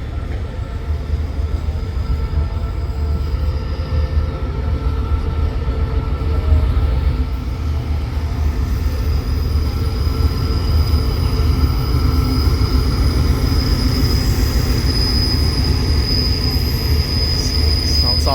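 Thaksin special express train 37/45 pulling into Ban Pong station, a steady loud rumble of railcars rolling over track with a high metallic wheel squeal running through, near and continuous.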